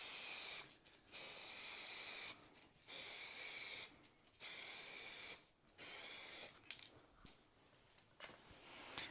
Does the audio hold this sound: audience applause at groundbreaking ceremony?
no